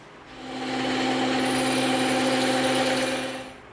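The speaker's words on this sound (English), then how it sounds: "Now we're going to cut this out on the bandsaw next." A bandsaw cuts through EVA foam with a steady, loud whining buzz that swells in over a fraction of a second, holds evenly for about three seconds, then tapers off.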